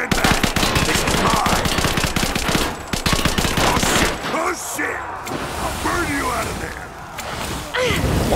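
Rapid automatic gunfire and scattered shots from the video game Rise of the Tomb Raider, loud and sustained, broken by brief lulls, with a player talking over the action.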